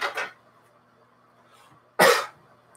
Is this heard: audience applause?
no